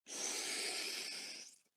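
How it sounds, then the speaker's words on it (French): A group draws one long, deep breath in together, airy and hissing, swelling steadily for over a second before fading out into silence. "Et puis tous ensemble, inspirez profondément."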